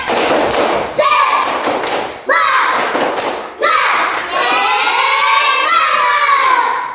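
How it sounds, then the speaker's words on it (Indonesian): Schoolchildren in a classroom clap together in a rhythmic chant, louder and more energetic than before, with close, dense bursts of claps and children's voices calling out. "Tepuk lebih semangat."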